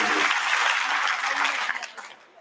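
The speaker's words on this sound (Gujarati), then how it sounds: "જોરદાર તાળીઓના સ્વાગતથી તમને બધાને" An audience claps together at a Vrindavan katha discourse, giving a dense burst of applause that holds steady, then thins and fades away.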